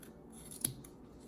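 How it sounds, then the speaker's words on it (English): Scissors cutting through the bottom loops of a yarn tassel, giving one quick, soft snip in otherwise quiet surroundings, close with no talking. "We just have to cut off the bottom loops."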